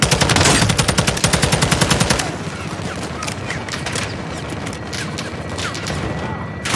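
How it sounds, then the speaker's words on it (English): A loud, rapid machine gun burst from a gun run in Call of Duty Modern Warfare 2 hammers for about two seconds. It then gives way to a dense wash of battlefield noise and scattered distant shots. "Ready for gun run, Soap."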